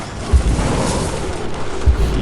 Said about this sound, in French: Donc, je détruis ce troisième mortier.